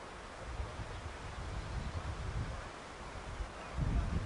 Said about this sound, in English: A windy day here on the Haylings